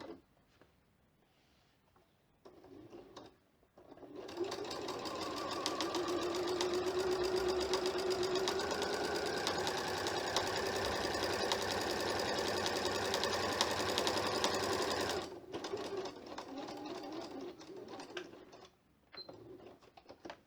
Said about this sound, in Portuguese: E vou fazer a costura em cima do risco.